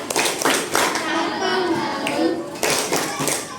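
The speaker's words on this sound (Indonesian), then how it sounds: "Berikan applause tepuk tangannya." Elementary classroom applause, a crowd of children clapping in quick, busy bursts close by, mixed with chatter and voices throughout.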